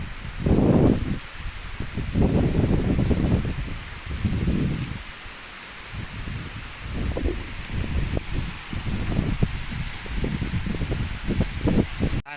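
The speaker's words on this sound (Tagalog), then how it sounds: "bumuhos pa yung ulan" Heavy rain pouring with wind at night at SM Seaside City in Cebu, a loud continuous wash that surges and eases in waves, with no talk.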